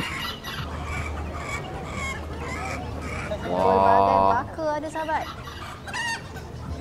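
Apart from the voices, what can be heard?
bantam chickens (ayam kate) clucking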